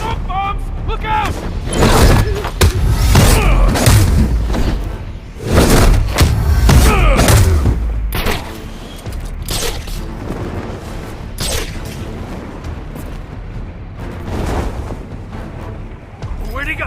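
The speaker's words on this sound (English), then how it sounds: "Smoke bombs! Look out!" Smoke bombs going off in Batman: Arkham Shadow, a series of loud, heavy booming bursts and thuds clustered in the first half, then fainter rumbling thumps and hissing, with voices talking amid the commotion.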